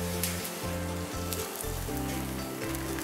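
Thin pancake batter sizzles steadily in a hot pan while it is swirled toward the edges, a close, continuous crackle over a low background hum with no talking.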